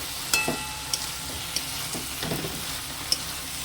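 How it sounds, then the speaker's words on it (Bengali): Soybean chunks and potato sizzle in a pan of masala while being stirred, a steady close fry with a few sharp clinks of the spoon against the pan, no voices. "এই পর্যায়ে আমি সয়াবিন আলুটা দিয়ে দেব। দিয়ে ভালো করে কষিয়ে নেব মশলার সাথে।"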